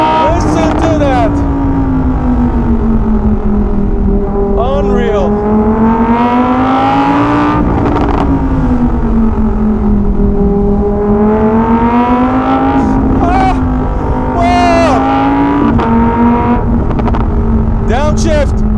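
A Lamborghini Huracan EVO RWD Spyder convertible roars loud and close as its engine pitch climbs and falls through gear changes, and excited voices shout over it.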